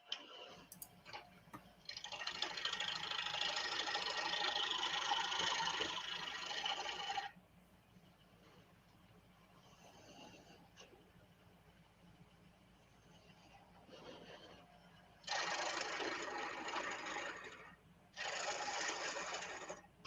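Wood lathe spinning a walnut winged bowl at 750 RPM, giving a steady broadband hiss and whir that runs for several seconds, drops quiet, then returns in two shorter bursts.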